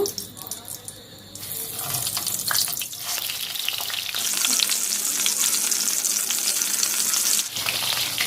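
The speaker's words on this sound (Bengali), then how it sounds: "এবার আমি একে একে বেগুন ছেড়ে দিচ্ছি ভাজার জন্য" Eggplant slices frying in hot oil in a wok, a steady loud sizzle that builds as pieces are added, with occasional stirring and clatter, no talking.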